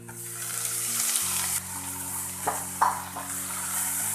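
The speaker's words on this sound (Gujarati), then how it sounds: "હવે તેમાં ભાજી નાખીશું," Fenugreek leaves hitting hot oil with garlic, asafoetida and turmeric for Gujarati methi bhaji, giving a loud steady sizzle with a few stirring clunks and a faint low hum underneath.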